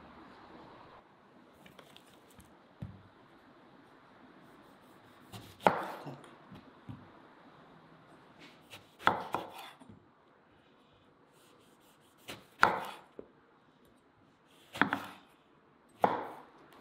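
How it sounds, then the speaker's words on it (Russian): Sharp knife chops on a board as vegetables and eggplant are cut, in scattered bursts of several quick strikes, close up, with quiet pauses between them and no talking. "сейчас я буду нарезать овощи и разжигать казан"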